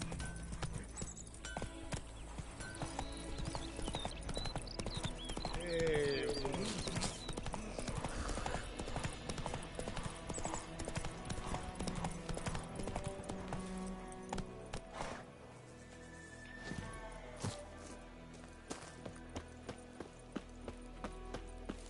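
Horse hooves gallop steadily in The Witcher 3 game, a continuous rapid clip-clop under an ambient soundscape, with occasional faint whinnying and heavier footfalls.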